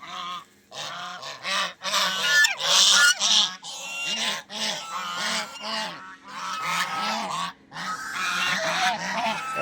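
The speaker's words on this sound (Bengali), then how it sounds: "আমাদের খামারে রাজহাঁস এগুলো আমাকে দেখলেই চিল্লায়" A flock of farm geese honk loudly and repeatedly up close, their harsh calls overlapping in a continuous noisy chorus.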